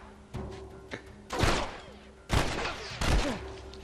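Gunfire in The Last of Us, with a few sharp shots and thuds in quick succession at close range and a faint voice in the background.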